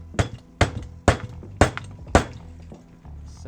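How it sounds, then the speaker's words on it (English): Five sharp metallic hammer blows on a stuck turbo stud during a K03 turbo teardown on a Veloster, evenly spaced about half a second apart and close by, with no talking. "So this hammer is not gonna do it."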